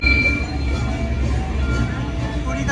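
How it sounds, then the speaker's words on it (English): The ride train of Mickey and Minnie's Runaway Railway at Disney World rumbles in a steady low drone, with faint squeaks and voices in the background. "우리가 탈 기차예요."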